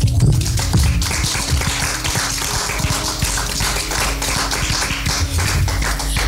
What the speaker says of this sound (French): On va déposer les micros et on va applaudir.